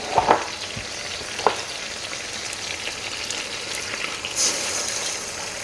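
Okra soup cooks in a pot with a faint steady sizzle and bubbling hiss, broken by a few soft clicks and knocks near the start and a short scrape toward the end.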